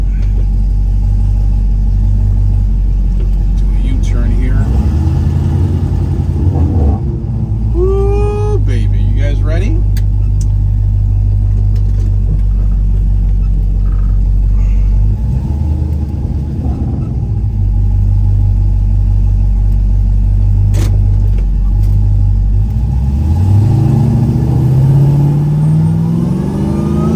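A 1970 Plymouth GTX with a Hemi engine and three-speed 727 automatic rumbles steadily while driving, its deep exhaust note swelling near the end as the throttle opens and the car accelerates, with people talking over it at times.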